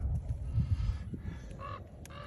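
A stuck, distressed bird lets out a few brief honking calls in the second half, faint under rumbling handling noise and low wind-like thumps outdoors.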